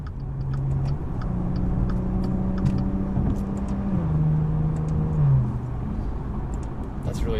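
A 2016 Maserati Ghibli S Q4 accelerates hard, its engine note rising steadily, then dropping briefly as the ZF8 automatic transmission snaps through a quick shift before climbing again, loud and close from inside the cabin.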